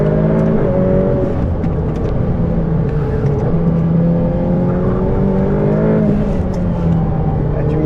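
A Ferrari F8 Tributo engine pulls hard on a race circuit, a loud, steady in-cabin drone rising and shifting in pitch through gear changes, with occasional voices underneath.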